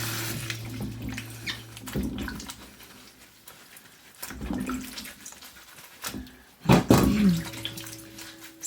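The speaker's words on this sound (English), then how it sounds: "So I'm just going to wash all these lemons" Tap water runs and splashes as organic unsprayed lemons are washed at a sink, a steady rushing stream with a few sharper splashes and knocks of fruit and hands, close by, with no talk.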